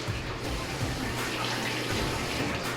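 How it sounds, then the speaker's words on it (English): Cold tap water running in a kitchen sink to rinse raw chicken breasts, a loud continuous splashing stream heard close up throughout, with no talking. "pour the chicken out, and then rinse it off a little bit. Cold water, don't forget that."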